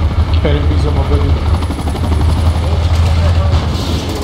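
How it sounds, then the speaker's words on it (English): Helicopter in an online shooter video game, a steady loud rotor-and-engine drone that runs throughout, with players talking over it. "I think that he's the helicopter."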